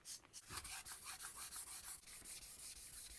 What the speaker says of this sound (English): let's move in close and see how I do the sanding